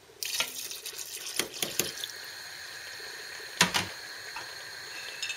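White wine poured into a pan of small Greek sausages and tomatoes, a steady liquid pour with splashes and clinks of pan and bottle, moderately close with no talking.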